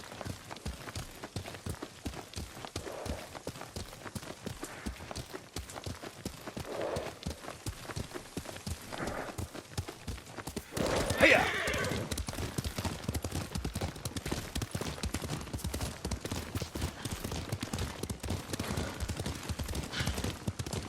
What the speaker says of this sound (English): Lord Sakai taught me to ride a horse.